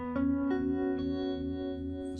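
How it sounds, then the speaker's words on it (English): An electric guitar plays through an amp's harmonic vibrato effect, sustained chords wobbling with a pulsing, rippling modulation, loud and close with no talk. "So the harmonic vibrato sounds like this."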